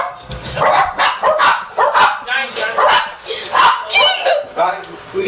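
Dogs bark in repeated short bursts, fairly close and loud, mixed in with people talking throughout.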